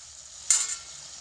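A short burst of sizzling as something is stirred in a hot pan, rising suddenly then fading back to a quiet background hiss.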